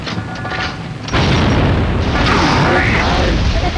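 A Boomshot grenade launcher explosion from the Gears of War video game: a sudden loud boom at about one second that swells into a sustained, rumbling, crackling blast with debris, filling the rest of the clip with no speech.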